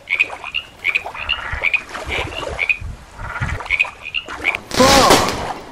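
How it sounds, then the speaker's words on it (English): A green frog calls in a series of short, chirpy croaks repeated at an uneven pace, ending with a louder, harsher burst. "Green frog over there."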